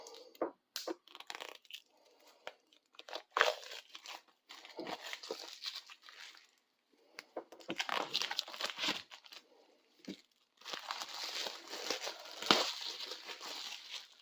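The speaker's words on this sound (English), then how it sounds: "So let me get the plastic off of here." Plastic shrink wrap being torn and peeled off a limited edition book, with bursts of crinkling and crackling separated by short pauses, close and fairly quiet.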